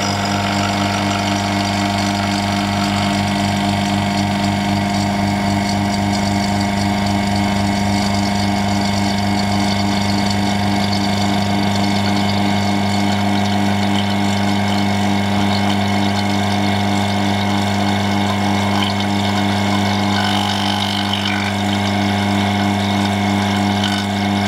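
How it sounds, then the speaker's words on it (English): A vacuum chamber pump runs continuously with a steady mechanical hum and drone, loud and close, holding an even level throughout with no talking over it. "And let's turn the pump on."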